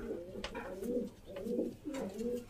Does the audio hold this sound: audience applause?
no